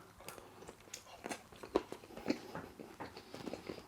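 Crisp crunching bites of raw vegetables such as carrot and mushroom, chewed close up in an irregular rhythm, quiet and with no talking.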